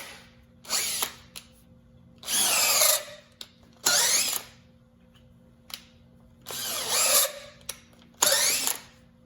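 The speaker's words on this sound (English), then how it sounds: "I know if the drill bit will push up in there" A power drill bores into a hard polyurethane shock bushing on a 1936 Ford pickup hot rod, enlarging the hole in five loud grinding bursts of a second or so each, separated by quiet pauses and a few short taps.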